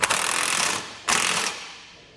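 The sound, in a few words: socket wrench tightening trailer hitch gusset bolts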